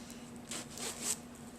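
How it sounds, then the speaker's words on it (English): A brass zipper on a handmade teal-lined fabric bag with a woven strap is slid open in a few short, soft rasping pulls, close and quiet against a faint steady hum. "And this has a brass zipper"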